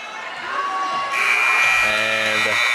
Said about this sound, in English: And buzzer sounds into the first half.